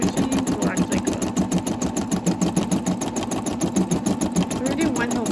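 An embroidery machine quilting fabric runs steadily up close, its needle hammering in a fast even rhythm under a person talking.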